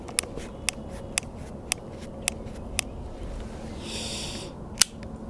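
Sparse, evenly spaced metallic clicks come from inside a Ruger Vaquero revolver tilted downward, about eight crisp close ticks with a soft rustle near the end.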